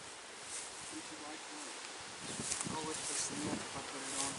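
Honeybees buzz around an open hive being installed on a windy day, a close droning hum with rising and falling pitch over steady wind noise, while voices speak faintly nearby.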